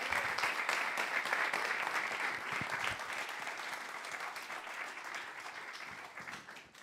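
An audience applauds a rapper at a Berlin hip-hop talk event, a long, even stretch of crowd clapping at moderate level that slowly tapers off toward the end.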